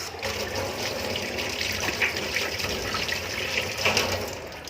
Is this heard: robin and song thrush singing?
no